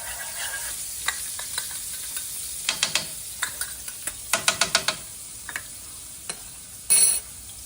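Shallots sautéing in a little oil in a pan, a soft sizzle under repeated clinks and scrapes of a utensil stirring, tapping in quick clusters, with one louder clatter near the end.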